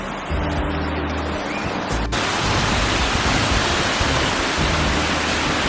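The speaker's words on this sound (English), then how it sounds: "All to ourselves with a nice little waterfall." A small waterfall in a river canyon pours with a loud, steady roar of rushing water, close by and continuous, with no talking.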